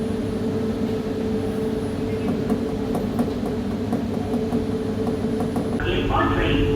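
Riding inside a Jakarta LRT commuter train, a steady low rumble of wheels and motor runs throughout, with faint rhythmic clicks along the track and a brief higher whine near the end.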